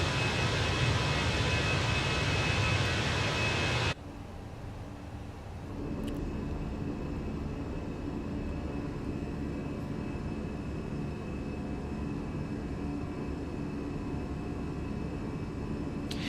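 Airbus A320 jet engine in a flight simulator drones as a steady broadband rumble and roar, louder and brighter for the first four seconds, then a softer, constant cabin-like hum continues to the end.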